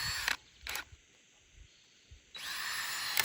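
A power drill whines in short bursts drilling holes for a raised garden bed, two quick spins, a pause with faint clicks, then a longer steady run, all close by.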